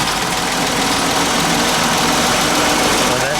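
A 1955 Hudson Hornet Custom four-door's engine idling steadily at close range, a continuous low rumble with dense broadband exhaust noise and no clear break over a few seconds.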